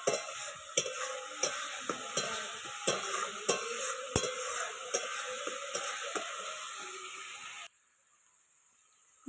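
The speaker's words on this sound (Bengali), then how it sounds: "দেখতে পাচ্ছ বন্ধুরা আমার মশলা প্রায় ভাজা ভাজা হয়ে আসছে।" Turmeric and other ground spices fry in oil for a potato and pointed gourd curry, a loud, steady sizzle broken by regular scraping strokes of a spoon in the pan, ending in sudden silence.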